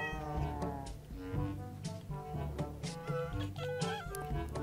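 A small cat meows repeatedly in a Minecraft-style video game, the cries mixed with game music and other effects, fairly loud and continuous without talk.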